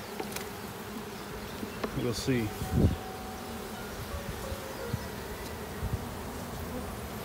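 Honeybees buzz steadily and up close inside a hive unit at a college bee lab in Kauai, a continuous droning hum with scattered knocks and rustles, and a voice speaks briefly.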